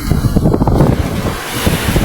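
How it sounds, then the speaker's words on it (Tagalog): Waves crash and churn steadily while strong wind buffets the microphone, a loud continuous roar of open water. "Medyo lumalantap pero malalaki pa rin naman ang alon."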